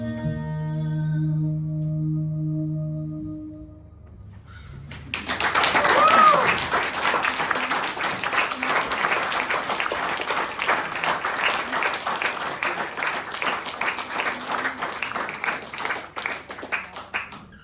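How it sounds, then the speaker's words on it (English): A German audience at a live band concert breaks into dense, sustained clapping right after the song's final chord fades, continuing steadily for over ten seconds. "It is nice that German audiences clap for a bit longer"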